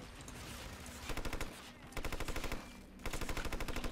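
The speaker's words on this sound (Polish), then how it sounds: "Czekajcie, ja sobie postrzelam." UMP submachine gun firing in Hitman Absolution: three rapid full-auto bursts of sharp, evenly spaced shots, loud and close, separated by brief pauses.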